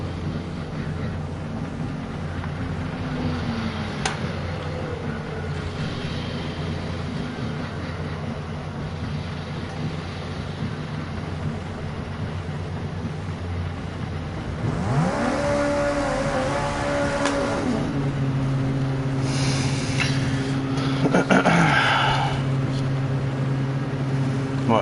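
Race car engine in the 24 Hours of Le Mans racing game on wet tyres, droning steadily, then rising in pitch with sharp revving and gear shifts as it accelerates in the second half.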